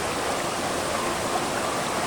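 Clear mountain stream flowing near the Manikmoyo waterfall, a steady broadband rush of water running evenly and fairly close throughout, with no voices.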